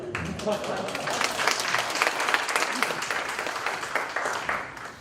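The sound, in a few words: applause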